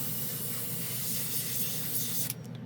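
A continuous close airspray hiss from a new Aventus Midnight Tide airbrush being tested for leftover colour, steady and loud for most of the stretch before cutting off abruptly near the end; no one speaks.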